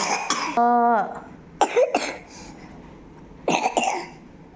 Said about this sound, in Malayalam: ചുമ ഉണ്ട് കേട്ടോ